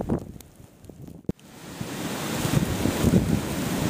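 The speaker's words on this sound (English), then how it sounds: "It's windy." Wind during a Chicago blizzard, gusting roar buffeting the microphone, with a brief sharp knock and drop near the middle before the rushing noise builds back and grows louder.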